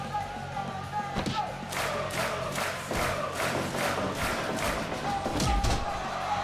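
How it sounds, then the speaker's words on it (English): A crowd at a house wrestling match cheers and whoops through repeated heavy thuds of bodies hitting the mat, with an energetic, continuous roar close by. "the Maglo cheering section always likes to get involved in matches"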